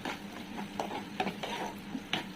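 Chilli powder being stirred into a tomato, carrot and boiled egg curry, a quiet, close run of spoon scrapes and light taps against the pan with a faint sizzle beneath.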